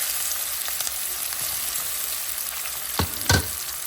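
Curry leaves, chopped onion and green chilli frying in hot sesame oil in a pan, a steady close crackling sizzle with a couple of sharper pops near the end, no voices.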